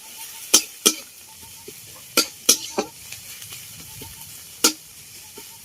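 Onions cut in large pieces frying in a pan for a soybean chop filling give a soft steady sizzle, punctuated by sharp scraping clicks of stirring at irregular intervals, close and fairly quiet.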